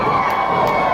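Crowd at a wrestling show pops and cheers in a loud, continuous roar of many voices, filling the whole brief moment without a break.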